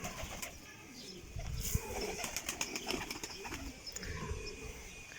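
Pigeons on a rooftop coo softly while a few sharp flutters of wings burst out, faint and fairly close against quiet outdoor background.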